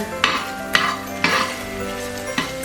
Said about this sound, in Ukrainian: цибулька жарюється